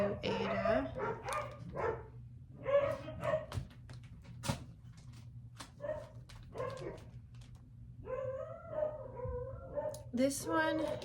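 Several pet dogs bark and howl in the background of an indoor room, with intermittent yips and whimpers scattered through the clip while a person talks over them.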